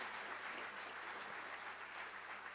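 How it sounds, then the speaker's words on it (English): Members of a National Assembly plenary session clap in a sustained, even patter of applause that sounds faint and distant throughout. "So we applaud him for plowing back to the country once again."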